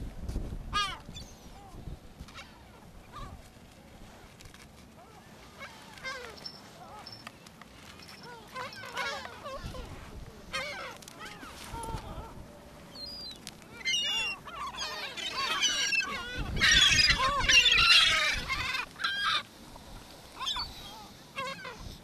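Gulls on a beach by the sea let out repeated squawking, honking calls, scattered and mixed with other birds, swelling into a louder flurry of calls near the end.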